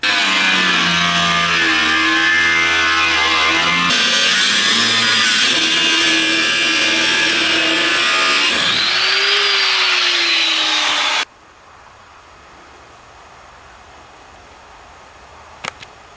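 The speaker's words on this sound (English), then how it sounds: "if I take the cutting disc and then just cut a little bit off all the way along" An angle grinder's cutting disc screams steadily as it bites along steel on a truck trailer hitch, the pitch shifting under load before winding down and stopping, then near-silence with a faint click.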